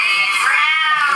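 A Siamese cat meows in one long, loud, drawn-out wavering cry with no talk over it.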